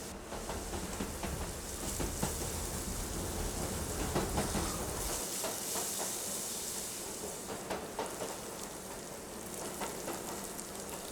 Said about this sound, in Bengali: এবারে পেঁয়াজটাকে মিডিয়াম ফ্লেমে 7-8 মিনিটের জন্য ফ্রাই করব।